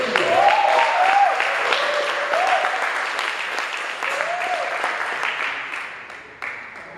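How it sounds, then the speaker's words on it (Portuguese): Warm, sustained applause from a church congregation honoring a church worker, filling the whole stretch and tapering slightly toward the end, with a voice speaking faintly over it. "Quero que você aplaudisse pela vida do obreiro Fernando."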